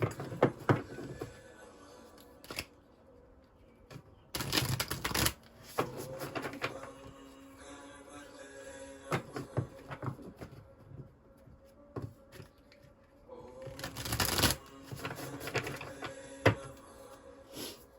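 Oracle cards from an Angels and Ancestors deck are handled and shuffled in several bursts of riffling and soft slapping, between quieter stretches of light shuffling noise close to the mic.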